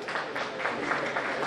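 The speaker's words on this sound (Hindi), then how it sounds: "तालियां आप उनको जरूर दें" Applause from an audience at an award ceremony in a hall, steady dense clapping sustained throughout at moderate distance, with no break.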